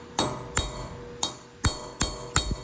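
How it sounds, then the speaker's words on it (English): Six sharp metallic strikes at an irregular rhythm as a mallet drives a chisel against the front differential axle cover of a 3rd-gen Toyota Tacoma TRD Pro 4x4, close and ringing, with no talk. "get a big hammer, a mallet."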